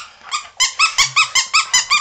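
A low-content wolfdog (wolf hybrid) chomps a squeaky toy, producing about eight loud, close squeaks in a quick steady rhythm, with no voices.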